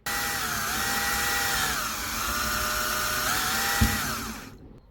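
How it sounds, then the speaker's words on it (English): Power drill boring a 3 mm hole through the plastic of a police light bar for a 1/18 scale Greenlight Chevrolet Terminator model car: a steady, whining motor drone that dips in pitch under load, running alone for about four seconds before stopping. "Now, since this is plastic, you don't have to put a lot of pressure. Just let the drill do the work."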